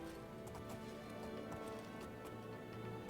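Horse hooves clip-clopping in the video game Oblivion in a snowy setting, a few faint, irregular hoof taps over a steady background hum, with no talking.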